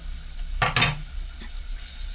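Dal tempering with spices frying in a pan: a burst of loud sizzling crackle flares up briefly, then settles into a low steady hiss with faint scraping.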